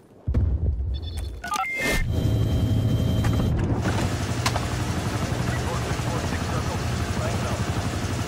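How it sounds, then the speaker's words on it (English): Helicopter rotor and engine drone of a chopper gunner in the Call of Duty Black Ops Cold War game, a steady loud low whir that rises after a short opening and holds, with game radio voices over it. "Chopper gunner awaiting orders."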